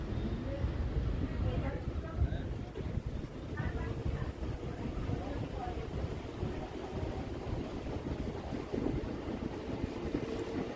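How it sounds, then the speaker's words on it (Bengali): A Katwa-Ahmadpur MEMU electric passenger train pulling out of a station after a brief halt: a continuous low rumble and rattle heard from on board, with gusty wind noise buffeting the microphone throughout. "খুব সামান্য সময় দাঁড়িয়েই ট্রেন ছেড়ে দিল।"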